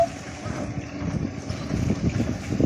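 Wind rushes past while riding in a golf cart, a continuous low buffeting roar on the microphone throughout, fairly close and steady with slight swells.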